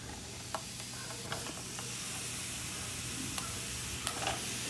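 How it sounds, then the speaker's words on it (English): Poblano chiles roasting directly on a stove, a steady low sizzle and hiss with a few faint pops and clicks, heard alone without talk. "put the chiles in there."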